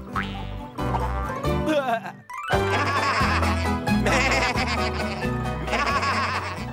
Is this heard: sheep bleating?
yes